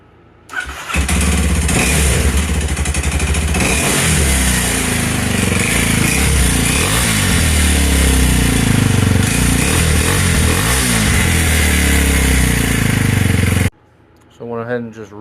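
A Kawasaki KLX230SM motorcycle with its intake snorkel removed starts and idles: a loud, steady, close single-cylinder thrum with slight revving wobbles runs for about thirteen seconds, then cuts off abruptly.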